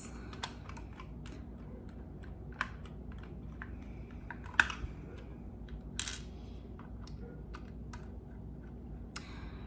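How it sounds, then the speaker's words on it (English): Small screws being fitted back into a Dymo Xpress label maker after unjamming it, heard as sparse light clicks and ticks, one sharper, over a faint steady background hum. "we'll just put the screws back in their holes"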